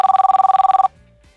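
A mobile phone rings loudly with a rapid, trilling bell-like tone that pulses steadily for under a second, then cuts off abruptly into quiet.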